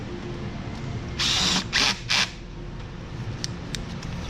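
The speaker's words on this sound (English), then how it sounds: "I like to use a clutch gun just so we don't over tighten them." Clutch-type power gun tightening hose clamps during a thermostat replacement on a 2016 GMC Sierra: three short, close whirring bursts in quick succession over a quiet background.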